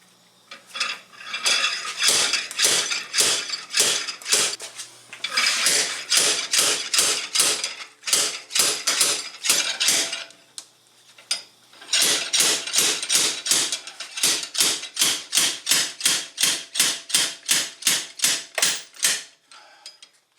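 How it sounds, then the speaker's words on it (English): Repeated sharp metallic impacts in rapid bursts, a slide hammer slamming again and again with brief pauses between rounds while pulling the front hub assembly off an Audi A8 D4, loud and close. "Let's see if the slide hammer can get this hub assembly off."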